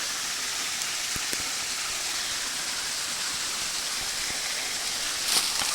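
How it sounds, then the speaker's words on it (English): A small waterfall cascades beside a hiking trail in Big South Fork, Tennessee, giving a steady, fairly close rushing roar of falling water with a few brief knocks, no voices. "we come down a steep slope because we heard this waterfall"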